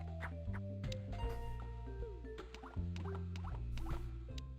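Scissors snipping fishing line in the Freddi Fish 2 video game, a busy cartoon sound effect of quick squeaky scratchy snips and clicks layered over a low rhythmic musical bed, steady and moderately loud.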